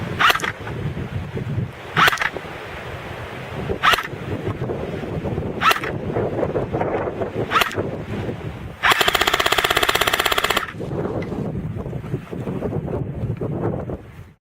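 G&P M14 DMR airsoft rifle test firing: six sharp single shots spaced about two seconds apart, then a longer buzzing burst, recorded close up with background wind noise.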